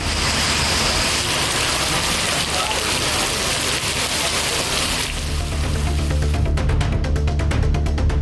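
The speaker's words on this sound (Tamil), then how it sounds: "சுமார் 2 மணி நேரத்திற்கும் மேலாக கனமழை பெய்தது" Heavy rain pours down in Pudukkottai, Tamil Nadu, a dense, steady hiss of downpour beating on surfaces, loud and continuous; partway through the texture shifts toward a lower rumble of falling water, with no voices.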